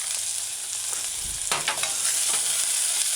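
Onions and seasoning with crushed garlic sautéing in a pan on a stove, a steady sizzle with scraping stirring strokes, loud and close with no talking.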